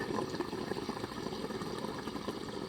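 Water bubbling up through a 77-hole POD diffuser at a low water level, a steady dense fizz of small bubbles with no break for the whole stretch.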